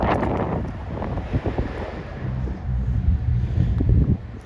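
Brisk outdoor breeze on a chilly day buffets the microphone in a continuous low roar with rising gusts, loud and close, no voices.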